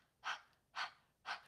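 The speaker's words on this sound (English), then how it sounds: "the breath of fire, or like a panting breath" Three sharp, rhythmic exhalations spaced about half a second apart, a panting breath-of-fire exercise, close and breathy with no talking.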